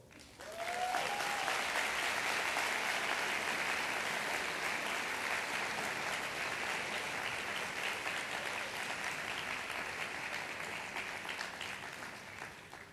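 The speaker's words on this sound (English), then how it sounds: "Let's give these 3 groups of people a round of applause." At a graduation ceremony, a large crowd applauds steadily and loudly for over ten seconds, the clapping dense and sustained before easing slightly toward the end.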